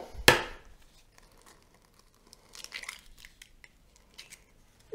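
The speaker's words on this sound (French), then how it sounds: "Et maintenant, on va casser nos œufs." Eggs cracked against a bowl for madeleine batter: one sharp, close crack near the start, then a few faint crinkles and light handling noises in a quiet kitchen.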